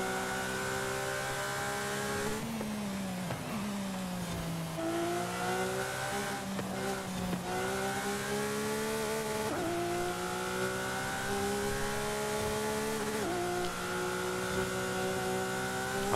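A Lamborghini Aventador SVJ in Forza Horizon 5 races with a loud, continuous engine roar. Its pitch climbs through the revs and drops sharply at each gear change, and sustained high-rev wailing carries across the whole stretch.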